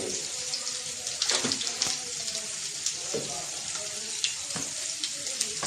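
Dried red chillies, bay leaf and cumin seeds crackle and sizzle in hot oil, a close, continuous frying hiss scattered with sharp pops and spits, while a voice talks faintly in the background.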